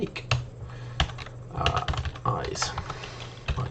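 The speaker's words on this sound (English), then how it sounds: "My typing's abysmal." Fingers type in irregular bursts on a computer keyboard while writing Python code, with clicky keystrokes close by and some quiet background sound.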